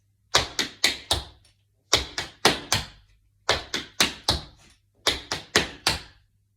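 Crisp tap shoe strikes on a hard floor in four quick groups of three or four taps, brush ball change steps, rhythmic and close, with short pauses between.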